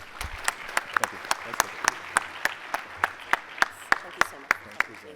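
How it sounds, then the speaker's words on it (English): Applause for a keynote speaker at a talk on future prosperity: crisp, evenly spaced claps that sound like a small audience, keeping a steady rhythm while voices murmur underneath. "Please give our keynote another round of applause."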